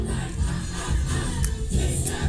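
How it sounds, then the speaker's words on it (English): A big festival crowd roars steadily through BLACKPINK's 'Pink Venom' set at Coachella 2023, a dense, continuous wash of cheering and noise heard from within the audience, with no talk over it. "this crowd is going crazy"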